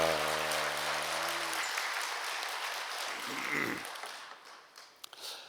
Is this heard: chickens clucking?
no